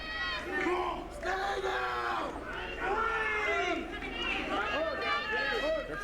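Wrestling-event crowd cheering and shouting for a wrestler, a dense, steady roar of many voices with rising and falling yells throughout, heard from within the arena.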